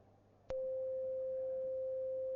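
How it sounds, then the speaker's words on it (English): A software synthesizer sounds a sine wave ring-modulated with another sine wave: a pure, steady tone that begins with a sharp click and then holds at an even level. "if we start with one sine wave and then ring modulate another sine wave to it"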